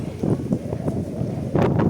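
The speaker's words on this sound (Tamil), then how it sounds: "இத்தனை நாள் அடித்த வெயிலுக்கு இன்றைக்கி செம்மையாக காற்று பாருங்க" Wind gusting across an outdoor microphone during rain in Madurai, a rough low rumble with brief swells, strongest near the end.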